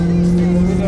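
A race car climbing a mountain course holds a loud, steady engine drone with a strong tonal hum, heard up close in a short burst.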